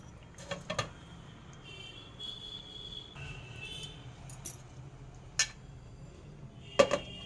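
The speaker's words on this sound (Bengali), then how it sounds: "এবার আমি একটু ঢাকা দিয়ে দেবো।" A lid is set on a cooking pot of mango achari mutton, giving a few sharp metallic clinks and clatters spread over several seconds against a quiet kitchen background.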